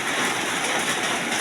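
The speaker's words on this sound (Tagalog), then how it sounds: "Kahit na ang ulan ay talagang grabe." Heavy rain comes down as a steady, dense broadband hiss. It is loud and continuous, with no voices.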